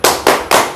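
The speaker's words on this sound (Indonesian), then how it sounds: "Yuk kita kasih tepuk salut ya" A group claps a 'tepuk salut' applause routine in unison, three loud, crisp claps spaced evenly and heard close up.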